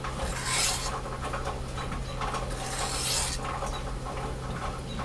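A knife blade rubbed back and forth over a 320-grit abrasive in a garage gives a steady gritty rasp, in long strokes that swell and fade, over a constant low hum.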